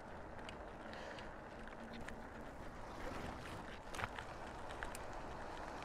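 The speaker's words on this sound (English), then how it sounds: "Oh, that's quite a strong headwind." Strong headwind buffets a bicycle rider on a road ride, a steady broadband roar of wind noise with gusty swells and occasional sharp buffeting bursts close to the microphone, with no talk.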